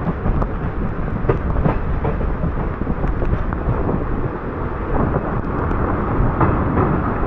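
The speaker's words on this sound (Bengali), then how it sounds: "এটা এখানকার লোকাল ট্রেন" A local DMU passenger train runs between Siliguri and Lataguri in heavy rain, its steady rumble and rattle continuous and close with wind buffeting throughout.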